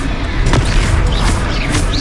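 A Confringo fire spell explosion in the video game Hogwarts Legacy, a loud booming blast with crackling debris and whooshing magical effects layered over continuous combat noise.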